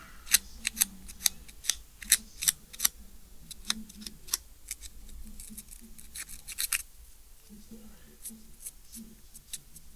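Scratching up metal outlet parts by hand before applying JB Weld, part of a loose floating outlet repair: sharp, close scraping strokes come in quick irregular bursts, with a voice talking low underneath.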